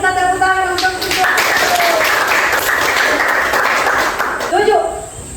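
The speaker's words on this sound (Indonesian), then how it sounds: "Mari kita tepuk tangan untuk kita." A classroom group claps together in a sustained round of applause lasting several seconds, fairly loud and close, with brief voices at the start and end.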